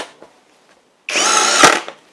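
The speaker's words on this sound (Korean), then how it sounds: "나무에다가 피스도 좀 박아보고 작업을 한번 해볼게요" A power drill drives screws into wood on a portable folding multi-purpose work table, a single loud sustained whir of about seven tenths of a second after near silence, ending with a brief catch as the screw seats.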